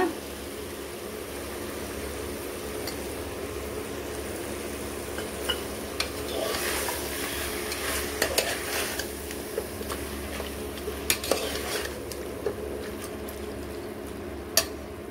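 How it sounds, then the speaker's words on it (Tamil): Spiced masala with chilli sautéing in a pot for country chicken biryani, a soft continuous sizzle with occasional stirring clinks and scrapes, fairly quiet and without talk. "இது நல்லா வதங்கட்டும் காரம் எல்லாம் வந்து இறங்கட்டும்"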